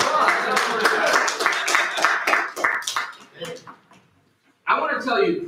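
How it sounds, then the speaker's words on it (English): A church congregation breaks into dense, loud clapping that thins out and fades, then a short burst of claps starts up again. "Give yourself a round of applause."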